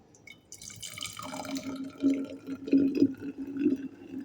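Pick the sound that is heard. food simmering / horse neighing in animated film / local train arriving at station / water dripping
water dripping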